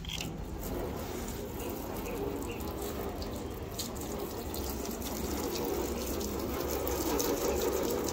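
A steady stream of water poured over coated car panels makes a continuous close rushing and splashing sound that holds at an even level throughout.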